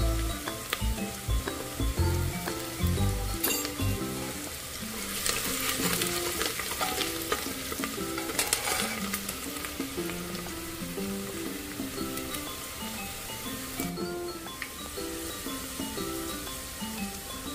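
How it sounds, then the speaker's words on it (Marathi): Onion fries in a pan with a little salt, a steady close sizzle with stirring scrapes and a few knocks of the spoon against the pan early on, continuing without talk. "थोडा कांदा शिजून दे तांबूस कलरचा, मग मी वाटण टाकणार आहे।"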